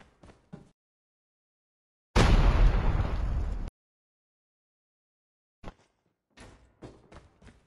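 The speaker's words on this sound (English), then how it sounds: "Grenade out!" A grenade goes off in Call of Duty Mobile, one loud, close blast lasting over a second amid near silence, bracketed by a few faint clicks and taps from the game.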